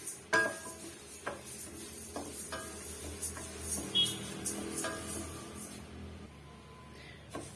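Moong dal is dry-roasted in a pan for murukku, with a spatula scraping and clinking against the metal in irregular strokes over a faint background hiss, close and fairly quiet.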